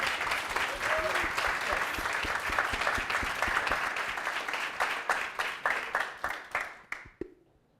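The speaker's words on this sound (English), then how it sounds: "Little clap, come on." Audience clapping at an international speech contest, a dense burst of applause that thins out into scattered, separate claps before fading to silence near the end.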